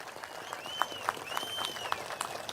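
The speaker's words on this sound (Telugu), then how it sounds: "గట్టిగా చప్పట్లు కొట్టి అభినందించండి." A crowd applauds at a political rally for Andhra Pradesh Chief Minister Chandrababu Naidu in Amaravati, a steady wash of hand clapping with scattered louder claps and faint whistles standing out.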